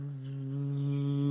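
A human voice imitates a bee buzzing past with a steady, droning hum that swells slightly in loudness over a second or so, heard alone.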